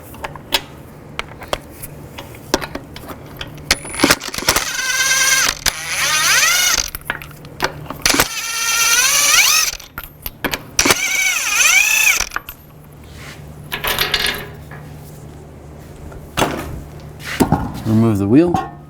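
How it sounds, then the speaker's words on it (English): Stuck lug nuts come off a Chevrolet Equinox wheel with a 22mm socket, giving loud bursts of ratcheting and whirring mechanical spins separated by pauses, close up, with a person talking in between. "Take the lug nuts off."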